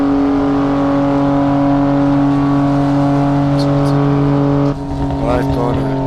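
A BMW F80 M3 with a manual gearbox in Assetto Corsa drones loudly at high speed on a Japanese road, its steady engine tone sustained throughout with a brief shift in pitch near the end, while a person talks over it.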